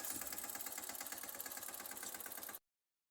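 A tractor engine runs steadily at close range with a dense, even mechanical drone for about two and a half seconds before cutting off abruptly.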